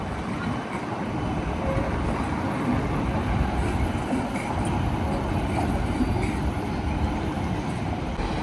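A tram passes along a street in Helsinki, its steady broadband rolling rumble loud and continuous throughout, with no talk over it.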